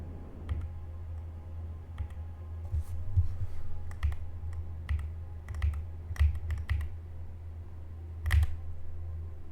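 Keys clack on a mechanical keyboard fitted with new keycaps, in close, fairly quiet irregular bursts of typing with short pauses, over a low steady hum.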